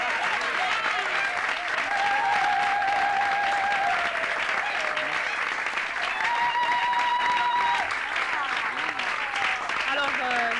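An audience in Kinshasa applauds for a Christian musician, sustained clapping running throughout at an even level, with voices and cheers mixed into the noise.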